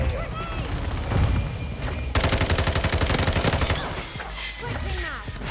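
Teammates firing in Call of Duty MW2, sustained rapid automatic gunfire with a steady machine-gun rhythm at close range, booming shots and battle noise around it, a voice talking over part of it.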